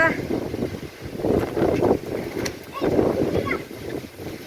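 Gusty wind buffets the microphone in rising and falling waves, with faint voices underneath.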